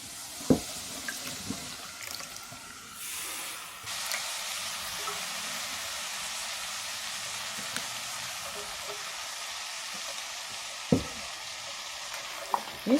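Meat and potatoes fry in a pot at the start of a soup, giving a steady close sizzle that swells as potatoes go in, with occasional knocks of a utensil against the pot.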